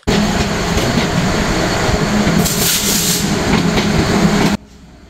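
A sleeper coach of the Dhumketu Express, running Rajshahi to Dhaka, rushes past close by with a loud, steady roar, hissing rumble and rattling wheels, then the noise cuts off abruptly near the end.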